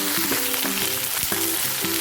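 Okra frying in a pan for a spicy chickpea and okra masala, a steady close sizzle with faint tonal hum and occasional stirring knocks, no talking.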